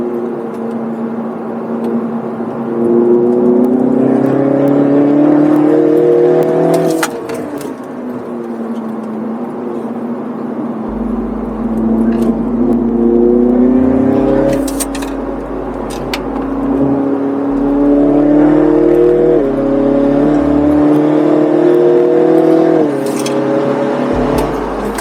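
A front-wheel-drive Mini GP race car laps Lime Rock, its engine note climbing repeatedly in loud, close rising sweeps broken by sharp gear shifts, with occasional thumps and wind buffeting.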